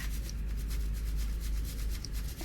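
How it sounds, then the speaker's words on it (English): Parmesan cheese rubbed against a grater, a soft, continuous scratchy rasp over a couple of seconds, close and quiet. "Just grate some cheese and a little bit sprinkles on top"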